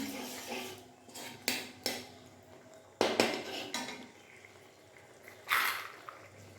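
A spoon clatters and scrapes inside a metal pot as food is stirred with turmeric, giving scattered clinks and knocks with short pauses and no voices.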